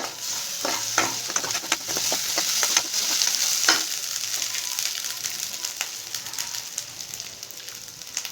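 Ginger garlic paste with onion frying in a pan for an Assam-style catla fish curry, a close steady sizzle with scattered crackles and stirring scrapes, no talking.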